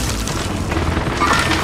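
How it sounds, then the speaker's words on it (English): A precision airstrike explodes in the video game Call of Duty Warzone, a loud, continuous booming rumble that fills the whole moment without a break. "Enemy precision airstrike."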